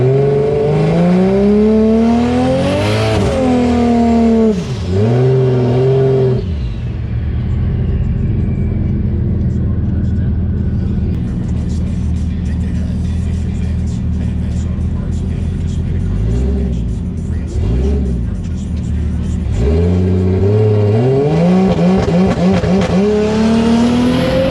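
A 1JZ-engined Fox Body car on nitrous making a drag pass, a loud engine revving up through rising gear pulls, easing off in the middle, then climbing hard again in long sustained howls.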